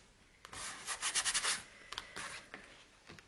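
A glued paper cutout is pressed and rubbed flat by hand, a close, soft series of quick rubbing strokes, a few short brushes following.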